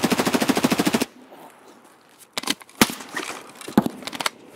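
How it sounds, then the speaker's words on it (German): Gunfire in the video game Escape From Tarkov: a rapid burst of about a dozen automatic shots, then a quiet pause, followed by scattered single loud shots and short bursts. "Er sieht mich natürlich wieder und fängt die große Ballerei auch gleich an"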